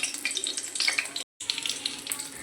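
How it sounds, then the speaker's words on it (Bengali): Nigella seeds and green chilies sizzle in hot mustard oil in a kadai, a steady close crackling hiss that cuts out briefly midway before resuming. "কালো জিরে আর কাঁচা লঙ্কাটাকে 1 মিনিট মতন ভেজে"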